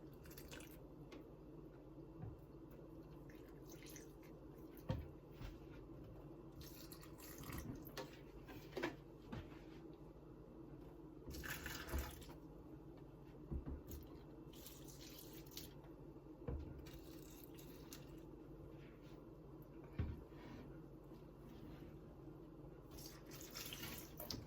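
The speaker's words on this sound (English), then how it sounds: "Now I'm just gonna water them, like just a little bit." Water poured from a can or jug onto freshly repotted houseplants, a soft continuous trickle and splash into soil with small drips, fairly quiet and close, with no talking.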